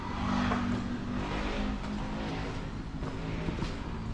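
A car drives past on a street at sunrise, its steady engine rumble and tyre noise close and loud throughout, with no voices.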